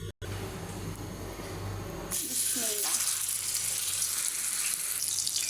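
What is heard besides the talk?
chicken kebabs frying in hot oil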